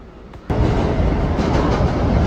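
A New York subway 6 local train, Bronx-bound, rumbles loudly and steadily after a sudden onset, with continuous rail noise and faint clatter filling the whole stretch.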